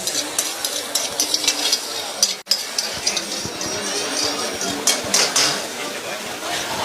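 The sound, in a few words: mustard seeds added to hot pan for soya recipe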